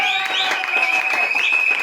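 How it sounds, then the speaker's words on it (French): A congregation at a wedding ceremony service claps together in a brief, even round of applause, with sustained musical tones ringing behind the hands throughout. "Est-ce qu'on peut applaudir pour la voix du Seigneur?"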